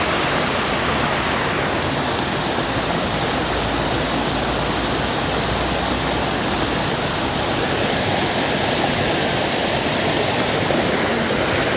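A river rushes loudly and steadily beside an outdoor bush-cooking spot in Jamaica, a dense, unbroken roar of flowing water with no talking over it.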